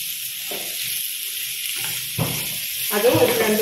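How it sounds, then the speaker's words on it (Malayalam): Onions sauté in a pan for a Spanish omelette, giving a soft, low sizzle and a few scraping stirs that grow louder toward the end, beneath someone speaking. "അതും ഒരു 2-3 മിനിറ്റ് വഴറ്റിയെടുക്കാം."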